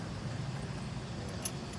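Keys jangling nearby in a steady, soft metallic rustle, with one brighter chink near the end and low background rumble underneath.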